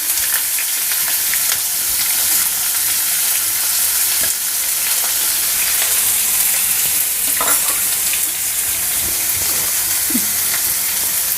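Finely chopped onions frying in hot oil for a broad bean curry, a loud, steady close sizzle with occasional stirring scrapes and pops, no talking.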